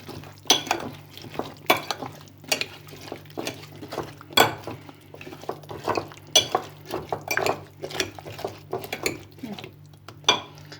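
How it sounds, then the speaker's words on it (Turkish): Batter for a potato cake is stirred in a bowl, a spoon clinking and scraping against the sides in irregular close taps, with a low steady hum underneath. "Şimdi yine karıştırıyoruz. Yine karıştırıyoruz."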